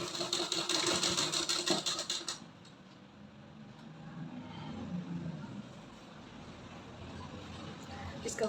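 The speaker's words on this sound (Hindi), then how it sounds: "तो यहाँ पे 1/2 इंच लेकर स्टिच करेंगे।" A sewing machine stitches a half-inch folded hem on a flared palazzo, giving a loud, fast mechanical whir for about two seconds before it stops and leaves quieter handling noise and room sound.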